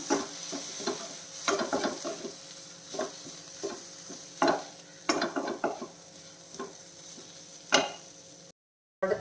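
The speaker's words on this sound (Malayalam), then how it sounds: "ചോപ്പ് ചെയ്ത് വെച്ചിരിക്കുന്ന തക്കാളി ഇട്ട് കൊടുക്കാം തക്കാളി നല്ല രീതിയിൽ വേണ്ടി കിട്ടണം" Chopped tomatoes sautéing with spices for capsicum masala, a soft steady sizzle broken by a run of quick scraping stirs of a spoon against the pan, close and with no talk.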